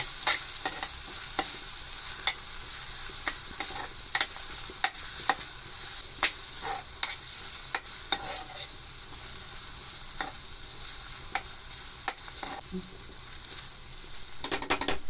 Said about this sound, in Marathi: आलं लसूण 2-3 मिनटं परतून घ्यायचं जरा चांगलं